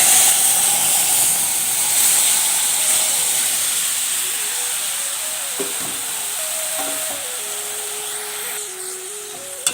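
Tamarind dropped into a hot pan with cumin seeds sets off a loud, steady hiss that slowly fades, with a faint whine and a few light clinks near the end.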